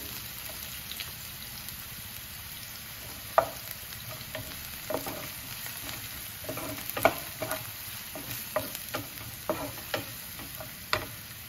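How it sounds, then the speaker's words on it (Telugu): Green chillies and curry leaves frying in oil with onions for vada pav, giving a soft steady sizzle with occasional crackles and stirring clicks, close but fairly quiet. "ఇదంతా బాగా ఆయిల్లో వేగనివ్వాలి."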